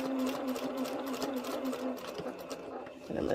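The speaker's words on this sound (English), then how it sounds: "So I'm just going to sew it down," A sewing machine stitches down a quilt with a continuous close mechanical whir and rapid needle rattle, steady for most of the stretch before easing off near the end.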